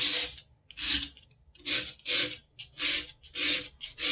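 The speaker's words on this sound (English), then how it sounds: "Then I may take a tool, this is just another palette knife, and do some" A palette knife scrapes repeatedly through cold wax and oil paint, seven or eight close, rasping strokes in an uneven rhythm with brief silences between them.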